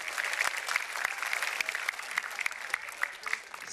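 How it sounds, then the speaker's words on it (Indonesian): A stand-up comedy audience claps in a steady, lively round of applause, sharp individual claps standing out from a dense patter, somewhat distant. "beri tepuk tangannya meriah untuk Pak Kiai Maman."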